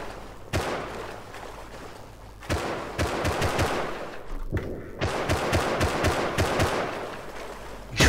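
Rapid automatic gunfire in a first-person shooter video game: sharp, repeated shots in several close bursts separated by short gaps, loud and punchy against background game noise.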